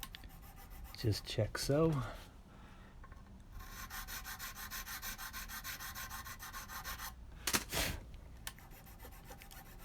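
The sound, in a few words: widening guitar nut slots on Gibson Les Paul Goldtop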